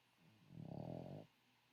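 A pet dog snores in one drawn-out, rumbling breath lasting under a second, quiet and close, with faint room hush before and after.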